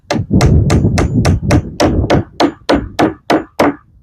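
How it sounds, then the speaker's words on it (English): A hammer nails wooden gap stops into place on a chicken coop built from recycled materials: about a dozen loud, sharp whacks in a steady rhythm, close and alone. "I'm just going to nail them into place instead of screwing them into place"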